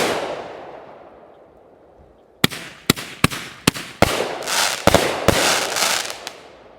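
Fireworks from a large assortment: a fading whoosh, then a rapid series of sharp, loud bangs and crackling bursts in quick succession, close by.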